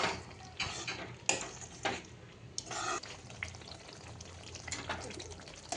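Paneer frying in oil for paneer tikka masala while being stirred steadily in a pan, a continuous sizzle broken by scraping strokes of the spoon every second or so.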